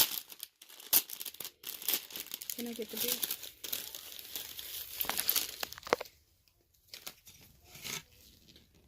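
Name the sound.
handling crinkling pink paper for a gift basket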